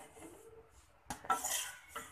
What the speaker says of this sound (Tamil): இப்போ வந்து ரவையும் இதில் வறுத்து எடுத்துக்க போகிறோம்